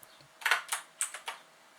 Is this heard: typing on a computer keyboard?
yes